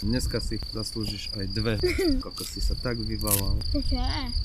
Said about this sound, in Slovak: Cvrčky sú to.